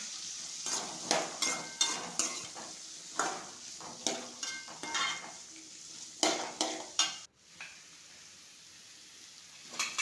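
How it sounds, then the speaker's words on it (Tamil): Curry leaves and cumin sauté in a pan for a fish curry, with a spoon scraping and stirring in quick repeated strokes over a steady close sizzle that briefly cuts out and then resumes quieter. "கருவேப்பிலை நல்லா போட்டு நல்லா வதக்கணும்"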